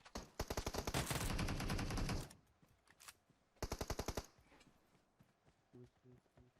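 Rapid bursts of gunfire from teammates in the battle royale game PUBG Mobile, one long loud automatic burst, then a single shot and a second shorter burst, with brief voices and faint footsteps after.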